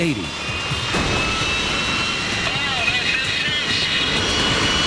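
A small aircraft engine roars steadily as it speeds up to 180, a loud continuous drone with rushing wind noise and a faint rising whine, holding at close range throughout with no voices.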